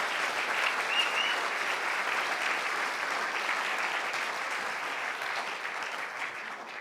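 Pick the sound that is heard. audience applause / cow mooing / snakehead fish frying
audience applause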